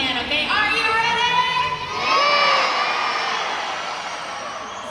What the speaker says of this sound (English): I want everyone to yell as loud as they can